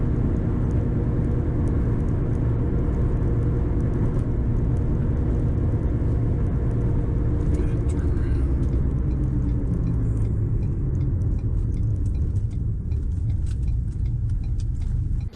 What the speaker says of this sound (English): I will show a clip of the massive amount of road noise that we get currently